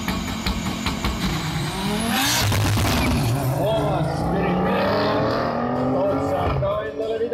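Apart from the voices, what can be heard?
race cars at drag racing event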